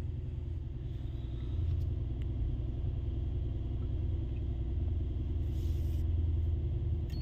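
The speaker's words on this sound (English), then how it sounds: "I start the car because I want to have a good battery when I will do the next step" A 2019 Mercedes-AMG GT63S idles with a steady, low rumbling drone that swells slightly after a moment and holds evenly throughout, heard nearby with no talk.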